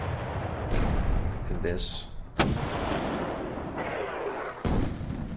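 105mm artillery shots in the wargame Panzer Battles Normandy land as several sharp, heavy reports with short rumbling tails, one standing out at mid-clip, while someone speaks briefly over them.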